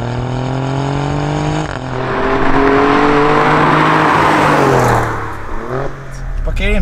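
An Alfa Romeo Giulia QV engine roars loudly up through the revs, easing off and building again in strong rising sweeps, with people talking over it inside the car.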